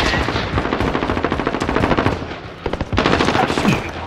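Sustained rapid automatic gunfire in a Call of Duty: Modern Warfare match, dense bursts of loud shots with a brief lull before the firing resumes.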